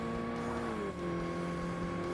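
Over-revving car engine in the racing game Forza Motorsport, a steady high-pitched buzzing drone held at the limiter with a brief dip in pitch partway, then continuing loud and even.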